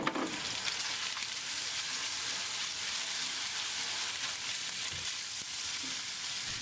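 Pork stir-fried with light soy sauce, dark soy sauce and aged vinegar in a hot wok hisses steadily, a loud continuous sizzle with faint stirring scrapes, close by and without talk.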